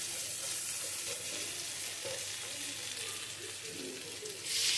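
Dried fish and green chilli paste fries in oil with a dense, steady sizzle that flares into a louder hiss near the end as a little water is poured in.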